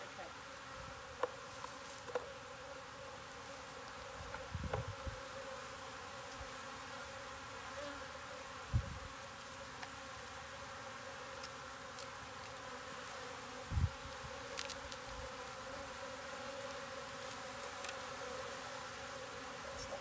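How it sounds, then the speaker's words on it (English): Steady, soft honey bee buzzing around a hive fills the background throughout, with a few faint knocks and thumps. "Very few bees."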